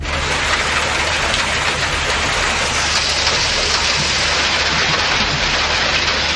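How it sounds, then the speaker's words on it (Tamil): Steady, heavy rain pours across parts of Pudukkottai district in Tamil Nadu after a long dry spell, a dense, continuous hiss that fills the whole stretch with no voices. "புதுக்கோட்டை மாவட்டத்தின் பல்வேறு பகுதிகளில் நீண்ட நாட்களுக்கு பிறகு பெய்த மழையால் பொதுமக்கள் மகிழ்ச்சி அடைந்தனர்"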